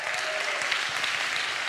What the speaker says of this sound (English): Somebody clap your hands like that's real.